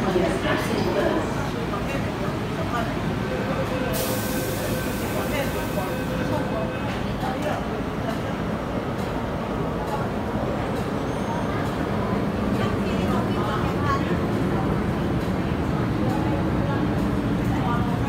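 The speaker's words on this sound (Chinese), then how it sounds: "前往荃灣的列車即將到達，請先讓車上的乘客下車。" An MTR Tsuen Wan Line M-Train pulls into Jordan station with a steady rumble of wheels and motors that stays loud, while a platform announcement plays over it.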